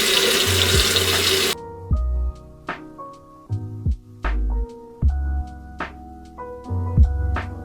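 Tap water runs into a bathroom sink in short bursts while someone wets their face, splashes and drips coming close and clear between pauses in the flow.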